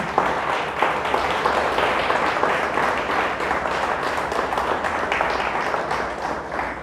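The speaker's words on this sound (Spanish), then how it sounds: "¿Le puede dar un fuerte aplauso a nuestro Dios?" Sustained applause from a large church congregation, steady and loud throughout with dense overlapping claps and no pauses.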